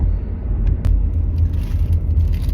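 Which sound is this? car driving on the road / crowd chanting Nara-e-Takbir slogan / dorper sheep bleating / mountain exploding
car driving on the road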